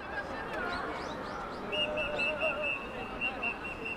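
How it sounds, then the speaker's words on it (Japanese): Referee's whistle at an American football game in Japan between Hiroshima Hawks and Reed Effort Yells, heard as short high whistle tones repeating over crowd and stadium noise. "ここでホイッスル。"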